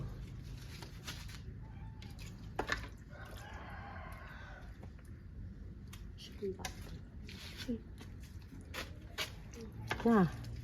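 A large cat meows a few times, short and mid-distance, amid outdoor background noise with people talking nearby.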